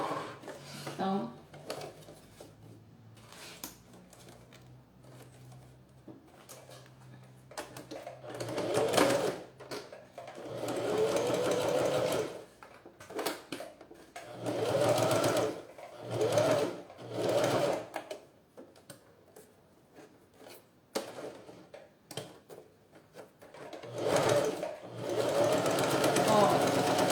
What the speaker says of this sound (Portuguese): Eu vou fechar ela toda aqui com o pé de máquina. Na lateral, no fundo e na outra lateral aqui.